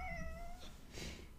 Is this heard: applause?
no